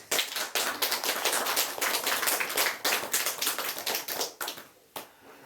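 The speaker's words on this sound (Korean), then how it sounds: "박수를" Audience applause during a Buddhist nun's lecture on the Thousand Hands Sutra: dense, close clapping that holds steady for several seconds, then thins into scattered claps and dies away.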